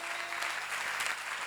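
Steady applause from an audience at a church seminar, a dense wash of clapping that holds at an even level throughout with no voices on top.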